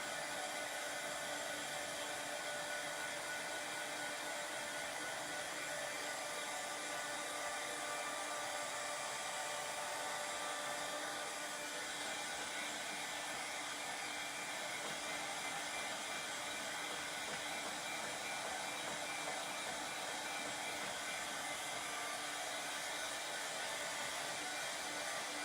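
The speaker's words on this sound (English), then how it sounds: "I just want to dry this because we're going to put that transfer back down." A hair dryer blowing steadily to dry a freshly applied transfer on a craft piece, a constant close whooshing hum that runs unbroken throughout with no talking.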